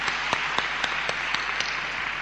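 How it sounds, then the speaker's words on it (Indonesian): Church congregation claps in a sparse, regular rhythm, individual sharp claps spaced about a quarter second apart over a low room hum, moderately near. "Mari beri tepuk tangan."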